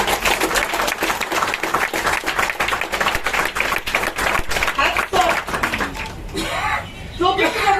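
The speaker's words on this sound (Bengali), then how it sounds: "আপনাদের নিজেদের জন্য একটা জোরালো হাততালি।" An indoor audience at a mindset training session breaks into loud, sustained applause, many hands clapping rapidly and close, which thins toward the end as a voice begins speaking over the last claps.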